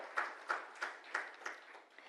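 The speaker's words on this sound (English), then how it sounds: "A big round of applause for all of you out here." Audience applause at an interior design awards ceremony, heard as a series of rhythmic clapping swells at a moderate distance, with no talking.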